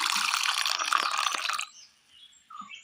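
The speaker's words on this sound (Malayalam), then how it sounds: "അരയ്ക്കുവാൻ ആവശ്യമായ വെള്ളം" Water pours briefly into a mixer jar holding garlic, grated coconut and turmeric for grinding, a close splashing rush lasting about a second and a half before tapering into faint drips and quiet.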